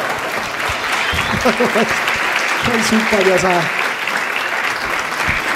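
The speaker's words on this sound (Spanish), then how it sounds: "Un aplauso." Audience applause at a comedy show, a steady dense clapping wash that runs throughout while someone speaks over it.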